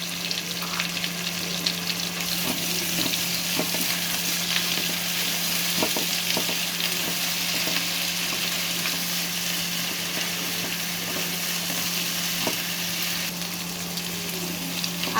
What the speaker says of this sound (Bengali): আদা রসুন বাটাগুলো ভালো করে ভেজে নেব, যাতে করে কাঁচা গন্ধটা না আসে